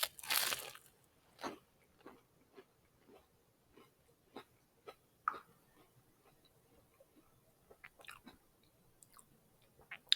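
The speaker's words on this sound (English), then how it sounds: "Make sure you get the microphone on so you can hear the crunch." Crunchy bite into a vegan tuna salad sandwich with red onion, a loud crisp crunch up front followed by a slow, close series of quieter chewing crunches spaced out over several seconds.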